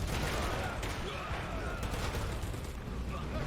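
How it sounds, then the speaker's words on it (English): Infantry rifle fire and MG-42 machine guns in the WWII video game War Mongrels, a steady distant crackle of gunfire with faint troop noise throughout. "Look at that infantry fire too. We got MG-42 positions and all the troops on the walls."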